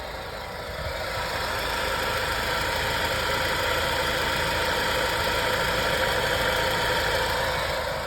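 A Maruti Suzuki car engine idles with a suspected abnormal noise, giving a steady, dense, unbroken drone at close range with no talking.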